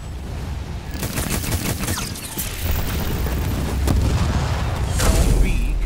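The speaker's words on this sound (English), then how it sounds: "They're trying to take me down with vehicle fire." Vehicle gunfire in the real-time strategy game Halo Wars 2 rattles in rapid bursts and booms, mixing with mechanical rumbling and explosions in a dense, continuous battle soundscape.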